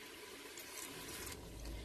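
Water is poured from a glass into a pot of chicken curry with bottle gourd, a steady close rushing splash lasting about two seconds, with no talk.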